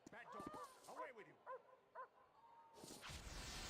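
A dog in a video game barks in a run of about four short, yipping calls spaced under a second apart, followed by a burst of hissing noise.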